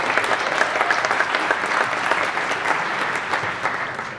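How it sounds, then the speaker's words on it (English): Audience applause at the opening keynote of Commit London 2019, a GitLab conference: steady, dense clapping from a large crowd, fairly close and even throughout, with no talking over it. "Let's give them a round of applause for having us."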